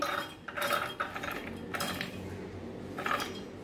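Soaked chana dal is tipped into a steel mixer jar, giving a few clattering metallic knocks and a scraping rustle, close by with no talking.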